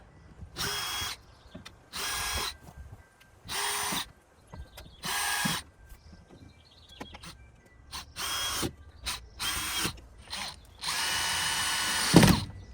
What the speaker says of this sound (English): I'm going to replace the drywall screws on the top stringer